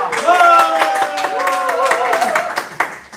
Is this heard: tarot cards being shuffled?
no